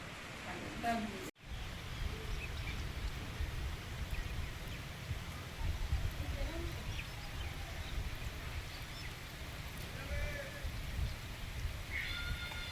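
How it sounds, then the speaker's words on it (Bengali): Heavy monsoon rain pours down steadily, a dense, even hiss filling the scene, with a brief break near the start and faint bird calls now and then. "একটু ভালো জোরে হচ্ছে এখন, আওয়াজ হচ্ছে বৃষ্টির"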